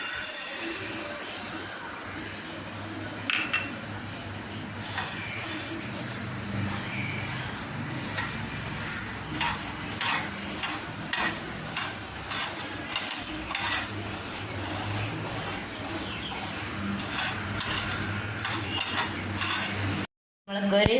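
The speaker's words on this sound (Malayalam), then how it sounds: "പാനിലേക്ക് ഈ കുരുമുളക് ഇട്ട് കൊടുത്ത് നമ്മൾക്ക് വറുത്തെടുക്കാം." Black peppercorns rattle and crackle in a hot pan, with dense clinking and rolling as they are tossed, steady and close throughout before a sudden brief stop near the end.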